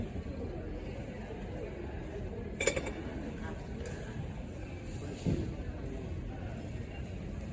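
Dishes and glassware handled at a yard sale in Mississippi give off a couple of brief, light clinks over a steady background hum with faint murmuring in the distance.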